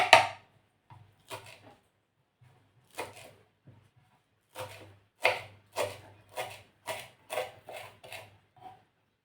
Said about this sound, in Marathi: इथे मी एक मोठ्या आकाराचा असा कांदा घेतला आहे तो आपण कट करून घेतोय